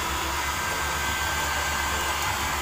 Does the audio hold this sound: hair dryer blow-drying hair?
yes